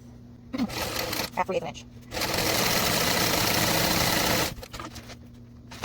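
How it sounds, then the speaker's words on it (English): A sewing machine stitches a fabric seam at a 3 stitch length, giving a loud, steady close whir for a few seconds, with a voice talking before and after the run. "I'm going to sew with a 3 stitch length"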